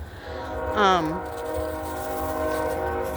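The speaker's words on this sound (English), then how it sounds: "There's trains around here." A train passes nearby on a snowy day, a wavering horn blast sounding briefly near the start before a steady low rumble carries on under faint background noise.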